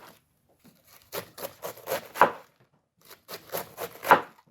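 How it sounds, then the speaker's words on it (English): Knife thinly slicing a head of cabbage on a board for homemade sauerkraut, a close run of rapid crisp chops in two bursts separated by a brief pause. "Then start to slice it very thin, like coleslaw."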